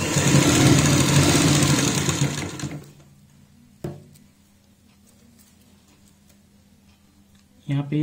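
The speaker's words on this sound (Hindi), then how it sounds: "यहाँ पे भी बराबर बराबर मार्जिन रखते हुए इस तरीके से सिलाई लगाएंगे।" A sewing machine stitches fabric around a blouse neckline, a loud, steady mechanical hum for the first few seconds before it cuts off, then quiet with a single knock and a brief burst of noise at the end.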